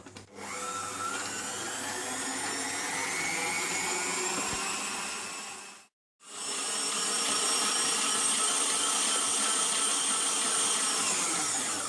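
An electric mixer beats a sugar mixture for chocolate cake at full speed, a loud steady whirring drone that cuts out briefly near the middle and then resumes just as strongly.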